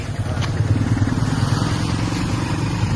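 Motorcycle engine running close and loud as a learner rider eases out the clutch to pull away, a steady throbbing mid-pitched drone with a slight rise.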